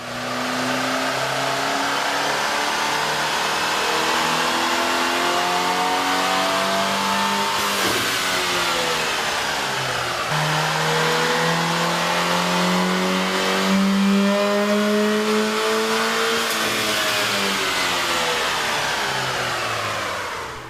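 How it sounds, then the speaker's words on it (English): A car engine fitted with a K&N cold air intake revs hard and continuously on a dyno, pitch rising in long sweeps and dropping back several times, loud and close with a whooshing intake roar. "we ran the vehicle on the dyno to test the sound comparison versus the stock intake"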